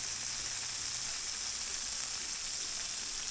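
Pork fat rendering in a hot pan for flipper pie, a steady bright sizzle and hiss that holds evenly throughout, close and with no talking.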